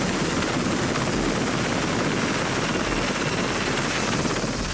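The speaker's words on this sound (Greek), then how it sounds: "ένα ανθυποβρυχιακό ελικόπτερο Aegean Hawk, το οποίο μετά από λίγα λεπτά προσνιώθηκε στο κατάστρωμα της φρεγάτας Σαλαμής" An Aegean Hawk anti-submarine helicopter roars continuously close by while landing on a frigate deck, its loud, dense rotor and engine noise filling the whole stretch without a break.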